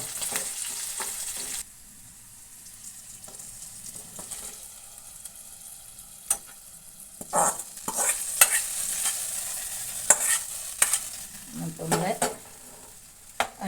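Ginger fries in a pan for a jaggery chutney, with a bright hiss and repeated scraping stirs, quiet in the middle and then louder bursts of clattering near the end, close by with no talking.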